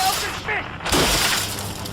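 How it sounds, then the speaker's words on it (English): A radio smashed in a cartoon: a sharp, loud shattering crash of breaking parts bursts in near the middle, with a rattling tail as debris settles, close and alone without talk. "Eustache smashes the radio before the song starts"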